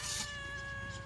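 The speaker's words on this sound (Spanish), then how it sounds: "Aquí está su gato felino." A house cat gives a single drawn-out meow lasting about a second, steady and fairly faint, with no talking over it.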